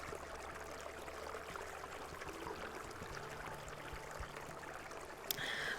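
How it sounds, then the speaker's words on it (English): Steady creek water flows through a WolfQuest game setting, a continuous soft rushing and trickling that stays even and close throughout, with a brief brighter splash near the end. "What a wonderful place to settle down with the creek nearby."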